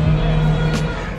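A Porsche GT3 with a manual gearbox runs close by, its engine holding a steady low drone with a brief rise partway through, loud and continuous without talk.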